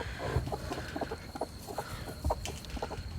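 A broody hen sitting on a clutch of eggs clucks in short, soft, low bursts at an uneven pace, close by and fairly quiet, with no talk over it.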